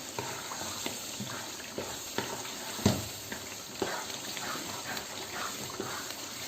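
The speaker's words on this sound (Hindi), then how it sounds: "अब इसको हम थोड़ा सा भून लेते हैं।" Chicken being sautéed in a pan for biryani gives a continuous close sizzle with scattered light scraping clicks and one sharper knock midway. No voices.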